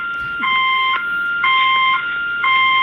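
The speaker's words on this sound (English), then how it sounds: "I'll get this alarm" An alarm goes off inside a salon, a loud electronic beeping in repeated pulses of about half a second each, with a short pause between groups.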